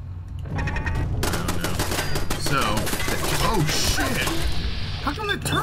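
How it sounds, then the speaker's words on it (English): Turret shooting in Fallout 4, a rapid mechanical clatter of automatic fire that rattles on for several seconds while excited voices talk over it. "How come that turret didn't shoot me before?"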